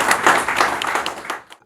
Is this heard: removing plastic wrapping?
no